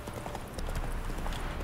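A horse's hooves clop rapidly while galloping in The Witcher 3, a dense, steady rhythm of hoofbeats under a broad wash of ambient game noise.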